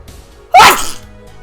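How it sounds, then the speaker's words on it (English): A single sharp, loud sneeze bursting out abruptly and fading within half a second, performed by a voice actor, otherwise near silence. "I'm about to sneeze"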